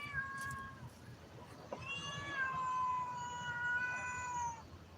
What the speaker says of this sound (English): Y'all see the cat, right? Is the cat not coming over to me?